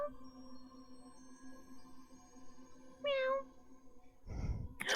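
A single voice imitates a cat meowing during a tabletop role-playing game, one clear rising-then-falling meow near the middle, followed by breathy noise, over quiet room tone.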